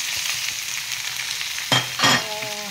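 Onions sizzling in a hot pan with stingray pieces then added, a steady close crackle of frying broken by two louder bursts of hissing and clatter as the fish drops in and is stirred.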